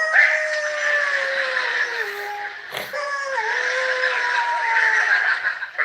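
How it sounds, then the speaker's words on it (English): A long, wavering wolf howl sound effect from a Halloween monster radio drama, gliding slowly downward and rising again, continuous and fairly loud, with a short sharp knock partway through. "I don't ever want to hear another wolf howl in my life."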